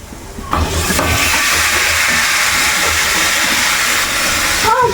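Cooked chicken, boiled with salt, turmeric and pepper, drops into a hot chicken curry pan and erupts into a loud, steady sizzle that runs close up and unbroken for several seconds.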